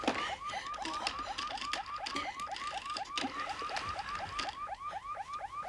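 A car alarm wails in a fast, repeating rising whoop, cycling steadily and loudly without pause, with mechanical clicking textures underneath and no voices.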